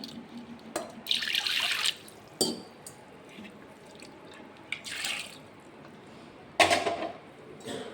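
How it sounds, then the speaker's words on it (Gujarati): Water poured into a pressure cooker holding soaked lentils, several short splashing pours with trickles between them, near and fairly quiet. "હવે એમાં પાણી લઈ લઈશું આપણે"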